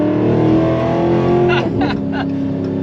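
A cammed Dodge Demon 170 V8 idles with a loping rumble, then takes a few quick throttle blips, loud and close, with excited voices reacting over the engine.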